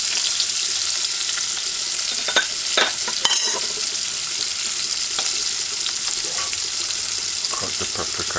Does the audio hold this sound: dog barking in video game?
no